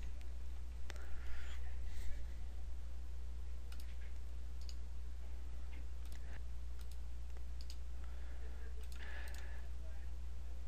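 Faint, scattered computer mouse clicks arrive singly and in small pairs while a PowerPoint is published, each a short crisp tick over a steady low electrical hum, with no talking.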